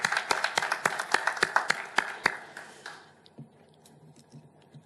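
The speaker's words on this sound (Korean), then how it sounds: "뜨거운 박수로 우리 아버지 하나님께 감사와 영광을 올려드리겠습니다." Church congregation clapping together during a Korean evening worship service, a dense run of sharp claps for about three seconds that quickly thins out and fades into quiet room murmur.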